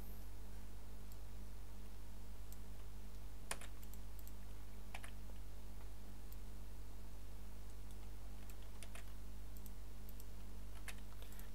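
Code is typed on a computer keyboard in sparse, uneven bursts of light key clicks over a steady low background hum, with no speech.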